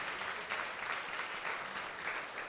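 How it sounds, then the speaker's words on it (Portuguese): A church congregation claps for a couple at an evening service, an even, sustained patter of many hands, soft and somewhat distant, with no speech heard. "Vamos aplaudi-los, irmãos."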